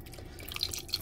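Beef broth trickling and dripping into a crockpot of tomato sauce and diced tomatoes for Italian sausage rigatoni, a faint, brief liquid patter heard alone at low level.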